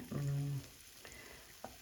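Masala mixture frying in a pan while being stirred, a quiet, faint sizzle with brief scraping touches from the stirring, heard close with no talking.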